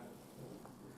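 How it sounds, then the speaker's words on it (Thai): A low, steady rumble of thunder blends with the dense wash of heavy rainfall, continuous and fairly quiet. "เสียงฟ้าผ่าต้องขออภัยด้วยพอดีที่บ้านฝนตกหนักมากเลยครับ"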